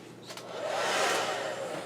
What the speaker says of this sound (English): because this is embossing powder, I am going to dry it with my hair dryer